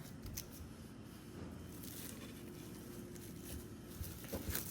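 Plastic wrap is cut in a kitchen while fig tart pastry dough is prepared, a quiet, steady, slightly crackly scraping with a few faint snips, heard alone and close.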